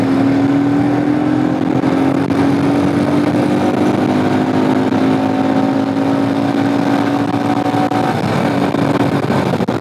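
A Royal Enfield Himalayan 411 motorcycle runs loud and close for about ten seconds, its single-cylinder engine droning steadily with a gently shifting pitch as it downshifts and revs. No voices are heard.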